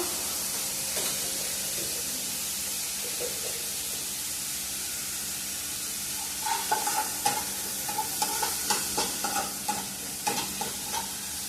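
Onions with a little salt frying in a home kitchen pan: a soft, steady sizzle that turns busier after the midpoint as a utensil scrapes and clatters in quick, uneven strokes nearby.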